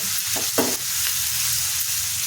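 Sweetcorn upma ingredients fry and get stirred in a pan, giving a close, steady sizzle broken by a few quick scraping stirs.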